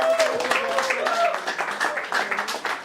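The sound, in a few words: round of applause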